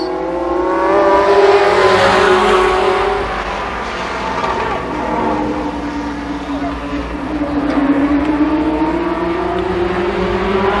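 Limited sportsman division race cars circling a speedway, a loud roaring pack of engines rising and falling as they pass, with a commentator talking over the noise.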